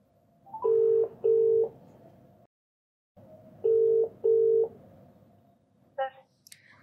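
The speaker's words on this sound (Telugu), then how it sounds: "ఒకసారి కాల్ చేస్తానండి" Telephone tones while placing a call: two pairs of short, clean beeps separated by a pause, heard close over faint background hiss, with a brief electronic chirp at the end.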